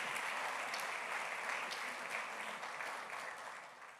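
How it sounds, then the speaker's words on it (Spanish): A church congregation claps together in steady, dense applause, moderately distant, gradually fading toward the end. "Démosle un aplauso al Señor"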